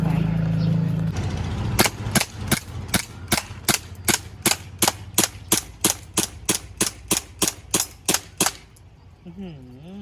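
A used WE Glock 17 gas blowback BB pistol fires a full magazine, about twenty sharp, loud, evenly spaced shots in quick rhythm, and the slide then locks back on the empty magazine; a brief mechanical sound follows.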